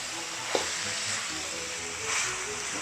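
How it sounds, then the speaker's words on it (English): Vegetables with spring onion and chili are stir-fried for nasi goreng, giving a steady, close sizzle with one sharp utensil clack early on. "So after 1 or 2 minutes you stir fry the vegetable."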